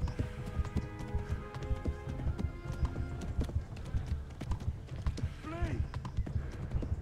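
Hooves clip-clop steadily from a galloping horse in the medieval game Kingdom Come: Deliverance, with game music and ambience underneath and a voice talking over the rhythm.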